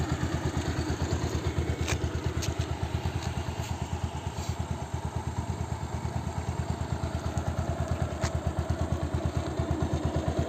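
A small engine running steadily after being started, a fast, even thumping idle close to the microphone, with a few faint clicks over it.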